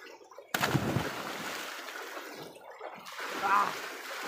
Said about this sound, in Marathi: तर पूर्ण थंड पाण्यामध्ये आंघोळ केली आहे.